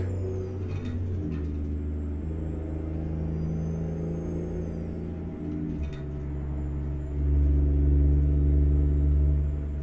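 A car cruising along a road through a park, heard from inside as a steady low engine and tyre rumble that swells louder near the end, with no talking.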